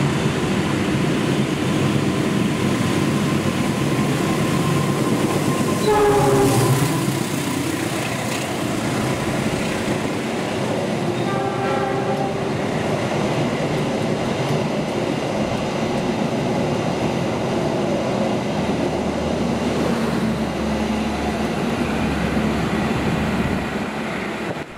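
A high-speed Indonesian direct train races past, a loud, steady roar of wheels and rumbling cars lasting the whole stretch, with brief tonal whines rising over the din partway through.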